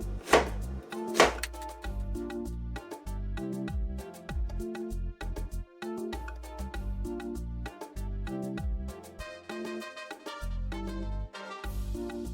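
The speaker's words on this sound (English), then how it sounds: "we're going to cut this okra" A knife chopping fresh okra on a cutting board for Ghanaian ayoyo soup, a quick steady run of close, crisp chops tapping against the board.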